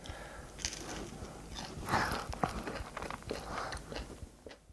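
A toddler bites into and chews a homemade hotteok, a sweet Korean pancake, up close with soft, irregular crunchy bites and moist chewing, faint and quiet throughout.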